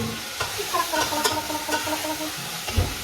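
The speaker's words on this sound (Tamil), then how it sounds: "ஆனியன் ஆட் பண்ணிட்டு திரும்ப ஒரு கலக்கு சிம்மில் வச்சிடலாம்" Onions sizzle and fry in a hot pan while a spoon stirs them through, a steady hiss with scattered scraping and clinking strokes, close up and without any talking.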